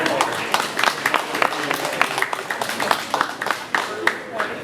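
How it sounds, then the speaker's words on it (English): Scattered clapping from a small audience at a county fair 4-H and FFA rabbit show, uneven individual claps rather than a full roar, with faint voices mixed in. "Please give our champion and reserve champion a big round of applause."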